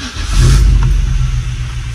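Nissan D21 4x4 pickup truck engine, freshly washed, catching and revving up with a loud, close rumble that swells in the first half second, then settles into a steady, throaty idle with no talking over it.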